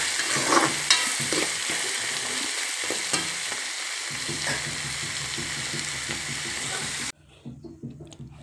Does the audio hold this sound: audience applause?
no